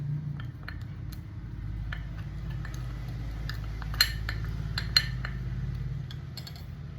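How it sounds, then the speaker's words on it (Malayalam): A spoon stirs a powder face pack, including manjistha powder, in a small bowl, with light clinks and scrapes against the bowl over a low steady hum, close and fairly quiet. "ഇത് രണ്ടും കൂടെ നല്ലോണം മിക്സ് ചെയ്യാം."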